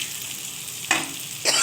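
Pumpkin fries in a hot pan with black cumin and pepper, giving a soft steady sizzle. Two louder bursts of hissing flare up as the pieces are stirred or moved.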